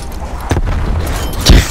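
A grenade blast in a cranked zombies game mode: a dull low thump midway, then a second heavier boom near the end over constant game noise.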